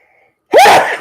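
One loud, sharp sneeze bursts out close up after a brief silence.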